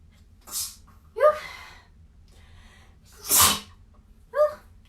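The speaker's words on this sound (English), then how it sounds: "And I'm gonna sneeze." Two loud, close sneezes, each preceded by a sharp intake of breath, with a quiet pause between them.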